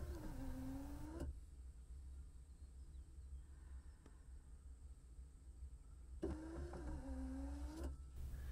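Windshield wiper motor on a John Deere 204K/304K loader cab, running with a whir and sweep at the start, a long steady hum through the middle, then another sweep near the end, alone with no talk.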